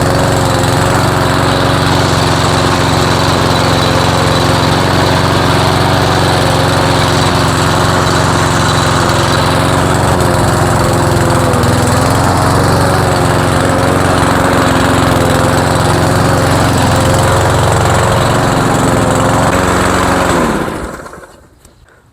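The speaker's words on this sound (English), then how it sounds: "Let's cut a couple strips of grass." A Cub Cadet self-drive lawn mower runs loudly and steadily while cutting grass, its engine droning close by for about twenty seconds before cutting off abruptly.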